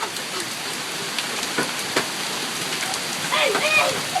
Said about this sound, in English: Because it's hailing.